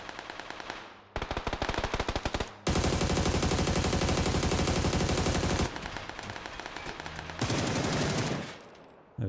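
Loud, rapid automatic gunfire from the video game PUBG on the Erangel map, coming in several long bursts separated by short gaps, close and dominant throughout.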